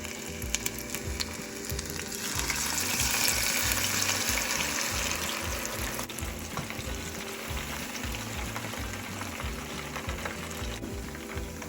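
Sliced onion frying in hot oil for a chicken kacchi biryani, a steady loud sizzle that swells as the onion goes in and then holds a constant crackling hiss, with no talking.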